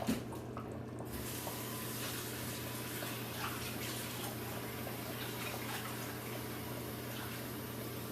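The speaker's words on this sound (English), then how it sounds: "I will now put water." Steady rushing of water pouring into a pot of rice, a continuous splashing stream that runs the whole time without pause.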